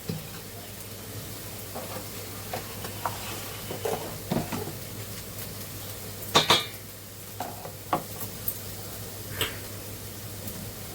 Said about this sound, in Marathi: बघा कांदा मऊ झाला ना आता ह्याच्यात आपण तेल टाकूया